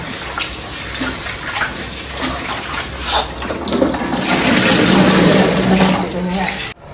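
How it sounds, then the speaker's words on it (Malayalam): Rice being washed in water in a home kitchen while a simple traditional meal is prepared: steady sloshing and running water, building louder toward the end before stopping abruptly. "അപ്പൊ അരി കഴുകുകയാണ് കേട്ടോ"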